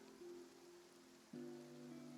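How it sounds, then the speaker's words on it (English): Rain falls steadily in the Genshin Impact video game, a soft, even hiss that sits under sustained tonal music. The music shifts pitch partway through. "No, it's raining."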